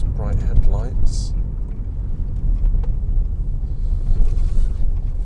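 A car comes toward the vehicle and passes on a narrow country road near Chartham Hatch, a rising then fading whoosh over steady engine and road rumble, with someone talking near the start.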